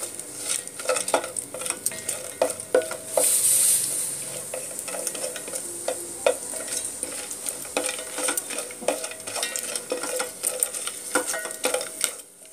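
Ingredients fry in a pan for tomato pulao while a utensil stirs them, mixing a constant loud sizzle with repeated scraping and clinking against the metal.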